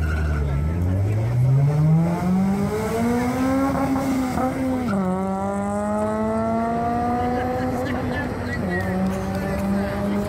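Subaru and Mitsubishi drag racing cars launching at a late-night drag strip event, a loud rising engine roar climbing through gears with sharp shifts, sustained close and steady throughout.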